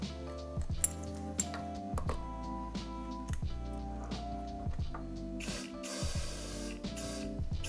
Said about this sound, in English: fill your tire to your desired PSI